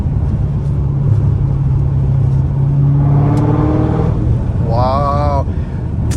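A Dodge Hellcat Redeye V8 drones steadily in sixth gear from inside the cabin, a loud low rumble with a brief rising rev partway through.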